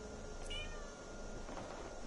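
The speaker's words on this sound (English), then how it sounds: "Well, hello, Cat. Nice of you to join me during my recording." A pet cat meows indoors during a Skyrim gaming session, a single faint, short meow heard low against quiet background hiss.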